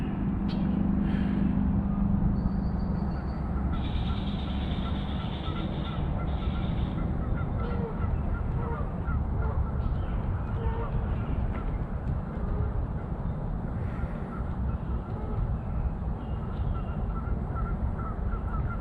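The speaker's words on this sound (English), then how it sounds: "Some geese down there." Geese honk and call from a spring marsh, steady layered calls at moderate distance over a constant outdoor background hiss, with no talking.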